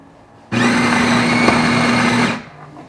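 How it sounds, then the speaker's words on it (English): Jura S8 super automatic espresso machine with G3 grinder grinding coffee beans: a loud, steady whirring grind of about two seconds that starts and stops abruptly, heard alone. "So the G3 grinder has just ground our coffee precisely."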